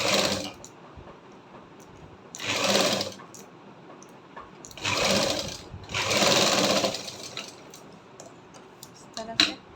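Sewing machine stitching a neck band on a garment, running in three separate bursts of fast, steady rattling whir, with quiet pauses between the runs.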